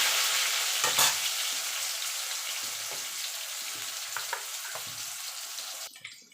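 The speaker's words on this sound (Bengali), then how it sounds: "আলুটা একটুখানি ভাজা ভাজা করে নেব" Potatoes frying in a pan with five-spice tempering for a vegetarian pumpkin and drumstick curry, a continuous moderate sizzle with occasional stirring clinks and scrapes.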